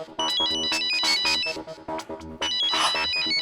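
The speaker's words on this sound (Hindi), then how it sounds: "ममता आंटी का फोन है।" A melodic electronic mobile phone ringtone plays loudly and close for an incoming call, a bright repeating tune of chiming notes with no talking.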